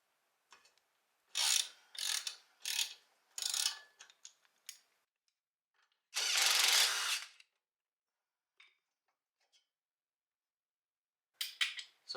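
A ratchet clicks in short bursts while loosening the 19 mm cam bolts on a 2015+ Subaru WRX during an AirLift suspension install, with several rapid clicking runs, one longer continuous spin, and brief pauses between them.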